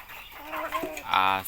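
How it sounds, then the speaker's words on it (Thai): Young chickens about four to six months old cluck and call briefly, close by, with a rising rooster-like squawk at the end. "ไก่รุ่นนี้นะครับ"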